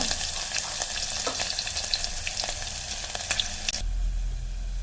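Chillies, curry leaves and garlic paste hit hot oil for rasam, producing a loud, steady close-up sizzle with a few stirring scrapes before the frying cuts off near the end.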